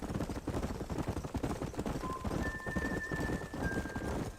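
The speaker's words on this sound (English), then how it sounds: "There's the horses!" Horses in the Red Dead Redemption video game, rapid clip-clop hoofbeats galloping continuously and loud, with a whinny and tonal game sounds rising partway through.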